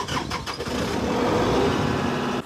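A tractor engine cranks and catches, then runs loud and steady at close range with a dense rumble before abruptly cutting back near the end.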